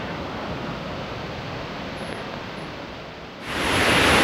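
Water rushing steadily down the third tier of Mae Sa waterfall in Doi Suthep-Pui National Park, a dense continuous roar heard up close and alone, swelling louder near the end.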